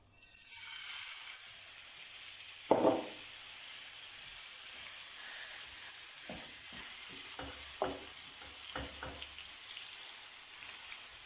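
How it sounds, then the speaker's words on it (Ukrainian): Steady loud sizzling of meat frying in a hot pan over high heat, a continuous hiss broken by a few clacks and scrapes of stirring. "Далі на великому вогні обжарюємо м'яско."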